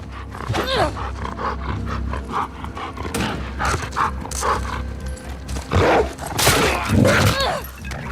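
A dog barks and snarls during tense combat in The Last of Us Part 2, buried in a dense, loud mix of game sounds, music and shouting, with a person talking over it throughout.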